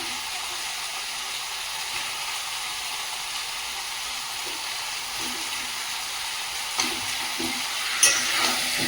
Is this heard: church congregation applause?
no